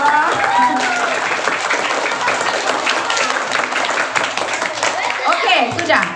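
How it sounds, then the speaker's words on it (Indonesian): Children applaud together at a primary-school Ramadan Islamic study session, a loud, dense wash of clapping lasting throughout with excited young voices mixed in. "Tepuk tangan dulu untuk kita semua."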